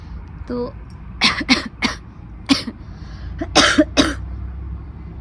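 A person with a cold coughs and clears their throat in a series of harsh bursts, close to the microphone, with short gaps between them.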